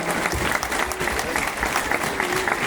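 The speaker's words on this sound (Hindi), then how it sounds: "प्लीज एक बार जोरदार तालियों से मैं प्रियंका मैडम के लिए खुद बजाना चाहूंगा" Vigorous audience clapping at a motivational talk, honouring a woman addressed as Priyanka madam, a close, dense burst of applause filling the whole moment.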